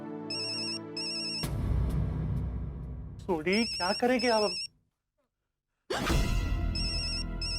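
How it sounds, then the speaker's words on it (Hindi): Telephone in a Hindi TV sitcom rings in repeated electronic trills, loud and clear, between bursts of background music and someone speaking, before cutting to silence and returning with more ringing. "अंजलि भाभी का फोन है"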